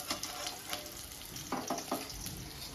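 Fish fries in a pan with a quiet, continuous sizzle broken by a few brief bursts of spattering and stirring.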